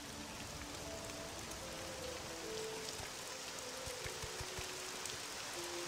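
Rain falls steadily in the video game Morrowind, a soft, even patter with scattered drops hitting a surface and faint tonal background hums, with no talking.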